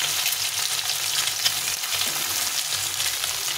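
A steady, close and loud crackling sizzle of duck eggs frying in hot oil, lasting the whole stretch without pause and with no voices over it.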